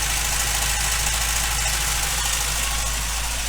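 A Ford Fiesta mk3 engine idles after a thermostat and coolant change, a steady, loud, unbroken mechanical drone with a low hum and faint rhythmic ticking throughout.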